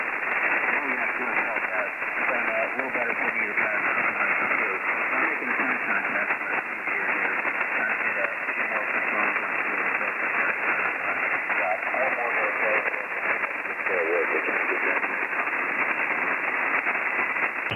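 An amateur radio contact on the 40 meter band, a voice coming through a radio amid constant hissy band noise, steady throughout.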